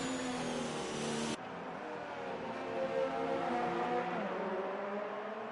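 Formula 2 race car engine from a sim racing game at a preseason test in Spain, a steady loud high-pitched drone that drops in tone abruptly early on, then holds and slowly rises in pitch, with no talk.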